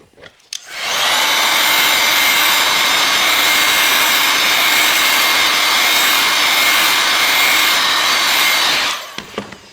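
A heat gun blows steadily on the back cover of a BLU G84 phone, a loud, close, continuous roaring hiss that switches on after a click and runs evenly for about eight seconds before cutting off.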